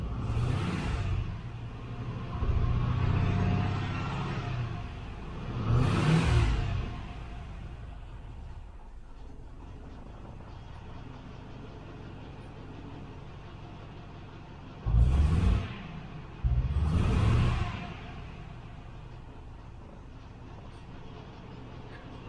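Engine of a 1972 Range Rover warming up from cold, idling low with a few short revving blips that rise and fall, some close together, over a quiet rumbling idle between them.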